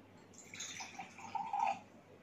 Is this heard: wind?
no